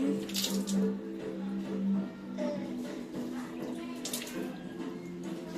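Hot water running steadily from a tap into a basin for hand washing, a continuous splashing flow with a low hum beneath it and occasional light splashes.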